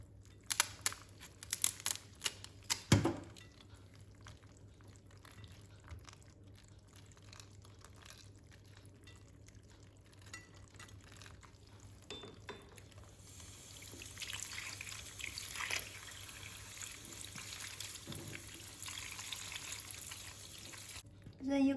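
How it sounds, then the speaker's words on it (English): Crayfish are rinsed under running tap water in a kitchen, a soft steady trickle and splash with occasional crinkling handling noises, fairly quiet throughout. "let's wash the crayfish"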